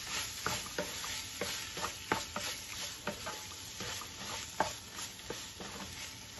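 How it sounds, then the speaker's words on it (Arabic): Shrimp being stirred with chermoula marinade in a frying pan, steady scraping strokes of the stirring utensil over a soft sizzle, close and alone with no talk. "غير نخلطو هكا يتلبس مزيان بالشرموله"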